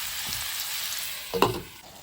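Greens simmering in a pot with pork give a steady soft bubbling sizzle, with a brief louder stir or lid clatter near the middle, close and alone.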